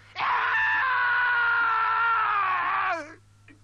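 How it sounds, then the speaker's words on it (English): A man lets out one long, sustained scream of terror, loud and close, holding a strained pitch for nearly three seconds before breaking off into silence. "he gathered his courage and screamed out in terror"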